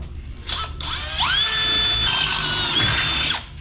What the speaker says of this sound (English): drill right that there. Top hole.